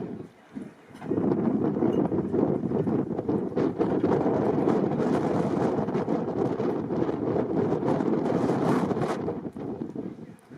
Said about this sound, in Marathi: वारा चालू आहे पब्लिक, त्याच्यामुळे थोडा कॅमेरा इकडे तिकडे होतोय.